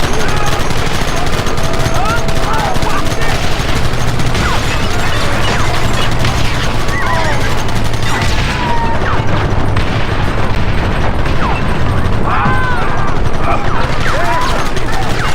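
Dense, continuous gunfire from the Red Dead Redemption video game, with rapid bursts and booming shots stacked over a loud battle mix, while voices shout through the firefight.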